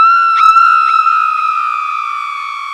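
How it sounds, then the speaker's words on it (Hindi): A loud, sustained scream sound effect in a dramatic audio story holds one piercing, steady tone that sinks slightly in pitch and fades a little over nearly three seconds. "विंग के कानों में एक चीख सुनाई दी"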